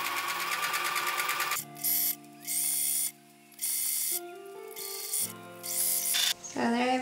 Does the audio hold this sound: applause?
no